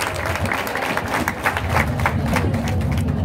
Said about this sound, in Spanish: Aplausos para la profesora.